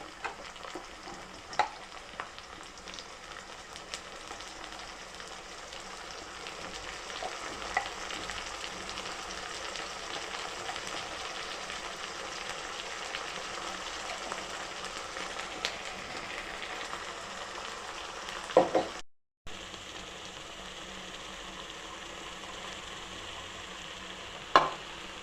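Coriander paste frying in oil for coriander rice, a steady close sizzle with occasional stirring scrapes that runs almost unbroken, stops for a moment near the end, then picks up again.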